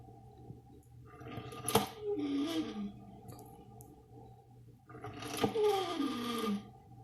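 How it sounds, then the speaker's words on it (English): Coffee maker making strange noises while brewing: two bursts of gurgling, sputtering and rising-falling squeaky whines over a low steady hum, close and moderately loud, with quiet ticks between. "my freakish coffee maker is having an orgasm"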